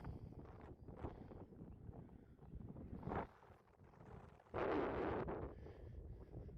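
Wind buffets a microphone on an exposed Welsh hilltop near a Neolithic cairn, a continuous low roar with stronger rushing gusts, loud and close, with no talking.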